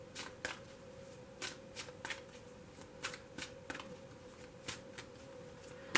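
Oracle cards being shuffled for a tarot reading give soft, close riffling flicks in a steady rhythm, repeated about ten times at a quiet level with no talking.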